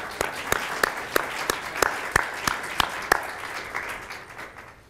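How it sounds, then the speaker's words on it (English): Applause at an ethics award ceremony: a scattered round of clapping with sharp individual claps standing out over a softer wash, steady for about four seconds and then fading out. "I want everyone to give a round of applause for Mrs. Mary Quilter"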